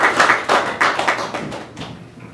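Scattered clapping from a small audience at an Ontario government announcement on mental health and new housing, a few bursts of claps that thin out and fade toward the end.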